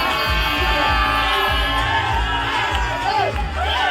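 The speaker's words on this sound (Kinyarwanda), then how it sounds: "amashyi menshi cyane" An audience at a Rwandan traditional dance performance by the Inyamibwa troupe roars with sustained cheering and whoops, a loud continuous crowd wash with rhythmic low thumps and raised voices throughout.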